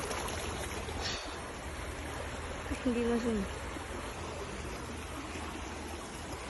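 A river in the Philippines rushes in a steady, broad wash of flowing water, with a person briefly speaking over it midway.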